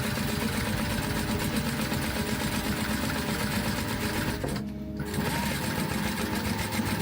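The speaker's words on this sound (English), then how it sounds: "I'm going to create a fold, and then I'm going to top stitch straight across" A sewing machine top stitches straight across a folded fabric sling, a loud, steady, close mechanical whir that stops briefly and then runs on.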